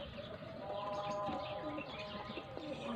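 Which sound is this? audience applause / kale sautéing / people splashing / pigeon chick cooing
pigeon chick cooing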